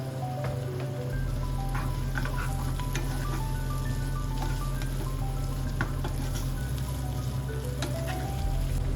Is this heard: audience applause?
no